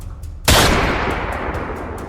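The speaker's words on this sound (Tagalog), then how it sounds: "isang malakas na putok ng baril ang aking narinig" A single loud gunshot cracks suddenly, followed by a long rolling echo that slowly fades, with faint ticking beforehand.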